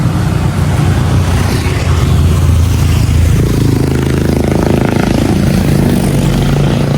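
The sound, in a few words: motor vehicle passing on road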